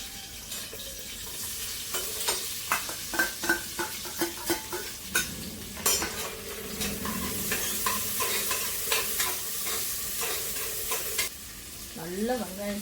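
Sliced large onions sizzling and frying in a pan, with repeated stirring scrapes and clinks of a utensil against the pan over a steady sizzle, close and fairly loud, with no talking.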